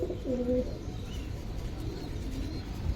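A Giribaz pigeon gives a short, soft cooing call near the start, then low murmuring coos under a quiet background hum.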